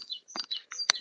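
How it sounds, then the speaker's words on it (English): In the morning, birds give several quick, bright chirps and tweets in short bursts over about a second, fairly faint, with one sharper, louder note near the end. "The birds are definitely waking up."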